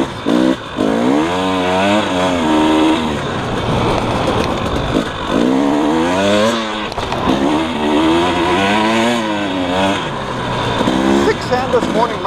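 A KTM 300 EXC two-stroke dirt bike rides through the desert, its loud engine revving up and down in repeated surges close by.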